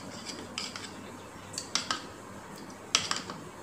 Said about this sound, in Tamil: மிக்ஸ் பண்ணிட்டு காட்டுறேன்